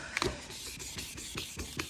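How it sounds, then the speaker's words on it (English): Rhythmic back-and-forth rasping of sandpaper on a hard plastic headlight lens while removing burnt tint, about eight even strokes, close and fairly quiet. "So I'm just gonna keep on sanding it"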